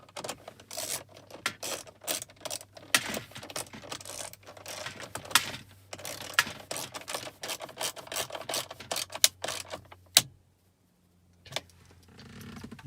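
A screw is driven into the radio head unit mount of a Chevy Cruze, giving dense, rapid ratcheting clicks and small metallic rattles that keep going for about ten seconds before stopping. Faint handling noises follow.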